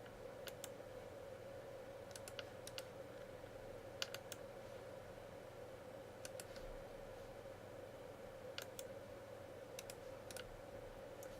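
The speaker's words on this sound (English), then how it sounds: "So let's type that in." Light, sparse keystrokes on a computer keyboard while renaming files, faint and spaced out over a steady electrical hum, with no talking.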